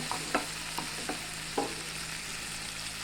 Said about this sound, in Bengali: সিমগুটিটা একটু নেড়ে চেড়ে ভালো করে মশলাটার সাথে মিশিয়ে নেব